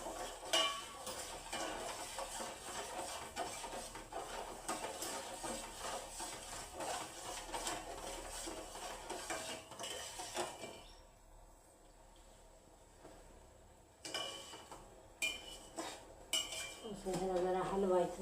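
Someone stirs a pan while making dink ladoo, with repeated metal scraping and clinking of utensil on pot. Quieter stretches break up the stirring, and a voice is heard faintly.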